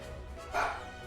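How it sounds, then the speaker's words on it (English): A single short dog bark rings out in a home during a game stream, fairly faint and brief against quiet background noise. "My dog's a little loud."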